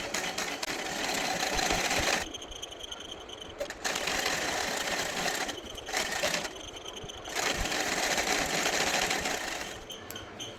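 Sewing machine stitching along a garment neckline on a medium-size co-ord set, running in several bursts with brief pauses, close and steady, with no talk.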